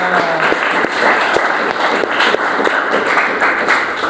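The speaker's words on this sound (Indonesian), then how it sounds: "Oke, tepuk tangan buat kita semua." Audience members at a morning school session clap together, a brisk, dense patter of many hands with a few sharper individual claps, fairly loud and close, with no talk over it.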